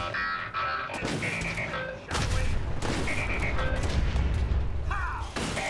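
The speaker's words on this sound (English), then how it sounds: "I heard an explosion. It sounds like one of the robots has been destroyed." In Fallout 4, robots are destroyed amid loud gunfire and booming blasts, with bursts of shots and clanking mechanisms alongside synthetic game tones.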